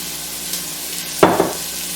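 Vegetables are dropped into a hot pan for a meat lasagna sauce, setting off a sudden loud sizzle and clatter that follows a low background hiss, then settles back.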